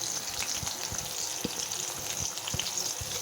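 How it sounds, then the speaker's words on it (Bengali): Chopped ginger and garlic paste fry in hot oil in a pan, giving a steady, close bubbling sizzle with small crackles and pops scattered throughout. "আদা কুচি আর রসুন বাটাটা দিয়ে ভালোভাবে ভেজে নেব"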